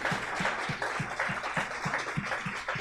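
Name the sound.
church congregation applause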